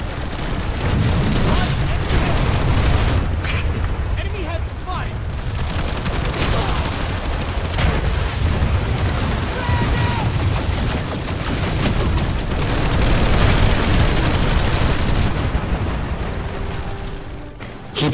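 Continuous loud video game gunfire and explosions from Planetside 2 as troops shoot at MAX armored units, a dense, unbroken barrage of shots and booms with voices talking over it.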